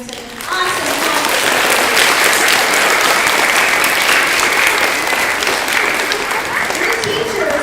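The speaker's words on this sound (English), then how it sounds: "give yourself a round of applause for doing such an awesome job" Schoolchildren applaud themselves for good work at school: loud, dense clapping bursts in after a brief pause and holds steady and close for several seconds without letting up.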